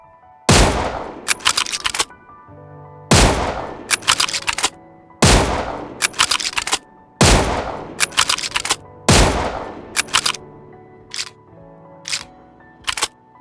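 Five loud, sharp Kar98k or Mosin Nagant bolt-action rifle shots in PUBG Mobile, spaced about two to three seconds apart, each followed by a brief metallic bolt-cycling clatter, ending with a few lighter mechanical clicks.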